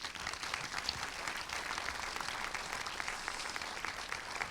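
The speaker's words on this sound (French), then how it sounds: "Je pense que vous pouvez les applaudir." Steady, dense applause from an audience at the opening ceremony of the Saint-Jean-de-Luz International Film Festival, a continuous wash of many hands clapping at even loudness for the whole stretch with no voices standing out.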